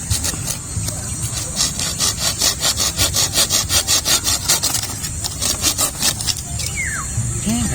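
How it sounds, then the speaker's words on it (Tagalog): A hand saw cuts firewood for a bonfire at a campsite, with steady rhythmic back-and-forth rasping strokes close by and a brief pause partway through. "may dala tayong lagari"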